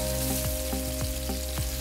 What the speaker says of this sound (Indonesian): lalu tumis bumbu halusnya hingga harum